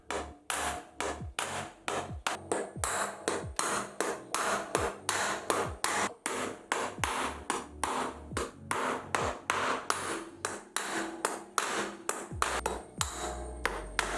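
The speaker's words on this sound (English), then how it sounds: "Use an hammer to fix the screws through the holes in the body" A hammer drives screws into the wooden body of a multipurpose table, a steady series of sharp, ringing knocks close by, repeated dozens of times with brief pauses and no talking.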